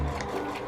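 A sewing machine runs a short burst of stitches along a quilt block seam, a quick close mechanical whir heard alone.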